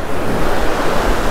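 Ocean waves break and wash onto a beach during surf fishing for striped bass, a loud, continuous roar of surf with wind buffeting the microphone.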